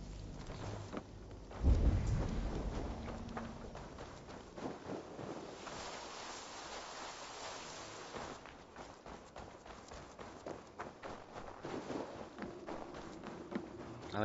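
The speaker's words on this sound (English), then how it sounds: "the snow makes like a crunch" Footsteps crunching through snow in Assassin's Creed Valhalla, a run of soft, quick crunches under a dull rumble of game ambience, fairly faint and steady throughout.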